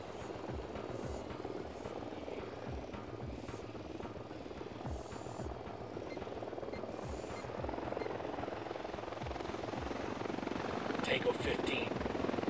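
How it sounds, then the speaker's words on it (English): Recon drone hovering in the Ghost Recon Wildlands video game, a steady buzzing rotor drone held throughout under talk, with music and other game sounds mixed in. "Drone is airborne."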